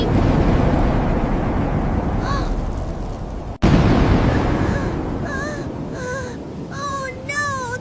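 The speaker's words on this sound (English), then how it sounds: "Thunder is so loud!" Heavy rumbling thunder rolls through a sudden storm with rain, loud and close, broken by a sharp crack partway through; a high, childlike voice wails and moans over the later rumble.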